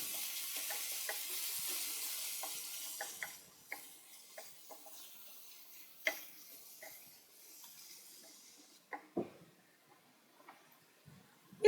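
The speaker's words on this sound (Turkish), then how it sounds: "Ispanağımı 5-6 dakika kavuruyorum ve yeterli oluyor." Spinach sautéing in a pan gives a faint sizzling hiss that fades, followed by sparse light clicks and taps of a utensil, quiet and close.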